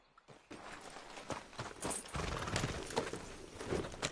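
Horse hooves clip-clop on the ground in Red Dead Redemption, a steady run of evenly spaced hoof strikes that grows slightly louder as the horse keeps moving, with no talking.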